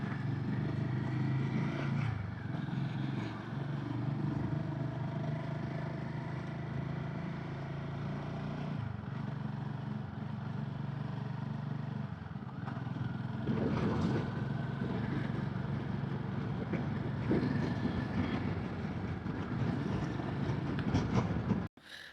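A motorcycle ridden through a mountain valley on the road to Badrinath, its steady low engine drone and road rumble continuous and fairly loud throughout, with a brief surge near the end.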